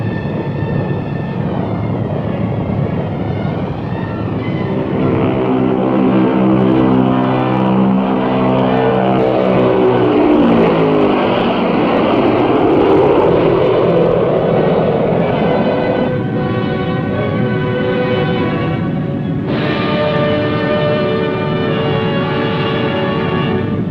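Piston engines and propellers of a Convair B-36 bomber drone loudly in flight, with a sustained multi-engine roar whose tone sweeps and shifts as the aircraft passes.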